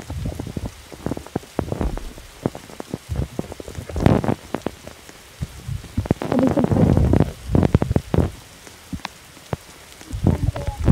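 Rain falling in the video game 99 Nights in the Forest, a steady close patter of drops with scattered louder splats and low rumbling swells, heard alone without talk.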